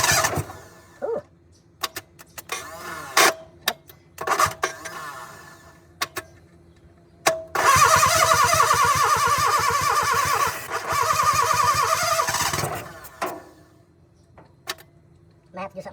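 Cranking of a 1972 Plymouth Cricket engine by its starter after the car has sat unused: short bursts of whirring, one long labored grinding crank with some squeal lasting several seconds, and someone talking in the gaps.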